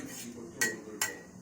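A spoon stirs sugar into a drink, giving two sharp, bright clinks against the cup about half a second apart over a faint background hum.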